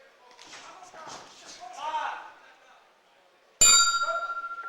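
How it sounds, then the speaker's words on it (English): Boxing ring bell struck once to end a K1-rules kickboxing round in a university championship hall, a loud sharp ring with a long fading tail, preceded by commentator speech. "And the bell stops the fight."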